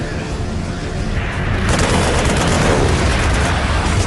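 Loud, continuous battle noise from a World War II aircraft action film, with gunfire and explosions merging into a dense, roaring wall of sound that swells partway through.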